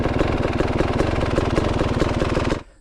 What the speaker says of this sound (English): If you start this bike up, you hear that nice deep popping two-stroke sound.